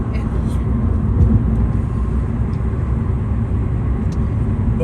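Steady low road rumble of a car cruising on the Sam Houston Toll Road in Houston, a continuous broadband drone with faint passing hiss, no voices over it.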